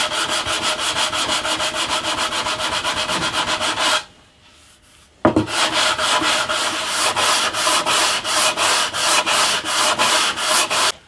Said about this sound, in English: I'm going to go in with the 60 grit. See if we can flatten those out.